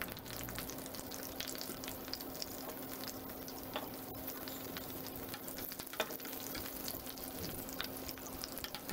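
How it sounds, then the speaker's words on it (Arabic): Cumin seeds, garlic pieces, curry leaves and mustard seeds sizzle steadily in vegetable oil for an Indian lemon pickle, a constant close crackle with occasional sharper pops. "أضع الزيت النباتي وحبوب الكمون وقطع الثوم وأوراق الكاري وحبوب"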